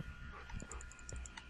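An unhappy dog in The Lost Potato video game gives faint, short whining yips and barks, quiet and scattered across a brief moment.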